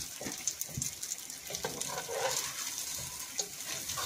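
Three cups of raw rice roasting in a pan with spices and salt for pilau, giving a soft, steady crackle and light scraping of stirring, with small pops scattered across a few seconds and no talk.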